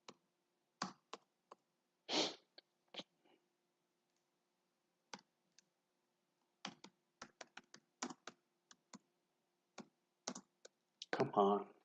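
Sparse bursts of computer keyboard typing, short clusters of keystrokes separated by pauses, close and faint, with brief speech in between.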